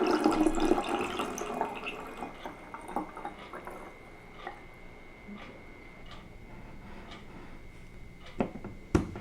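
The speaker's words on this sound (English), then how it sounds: "let's bottle our vanilla bean syrup" Vanilla bean syrup pouring into a bottle, a soft trickling stream that starts fuller and thins out, with a few light clinks and drips near the end.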